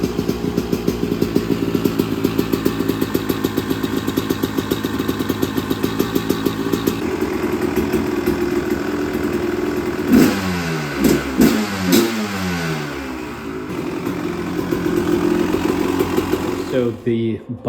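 Honda CR250R two-stroke motocross bike being run after restoration, its engine loud and close with a busy rattling idle, then a series of sharp throttle blips and revs, finishing on steady running.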